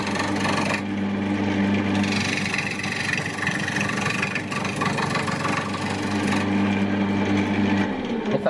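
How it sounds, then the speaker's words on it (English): A wooden bowl turns on a lathe as a tool shaves the wood, a loud continuous motor hum and rasping cut that runs steadily, dips briefly now and then and carries on with no voices. "And we're just shaving it."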